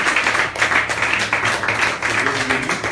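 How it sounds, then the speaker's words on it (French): A church congregation applauding a prophet, dense rhythmic clapping filling the room with a loud, continuous patter, with voices faintly mixed in. "Ce matin, acclame le prophète Armand Maduka."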